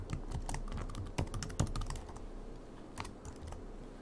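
Quick, uneven clicking of keys on a computer keyboard, close and fairly quiet, with a few louder taps standing out.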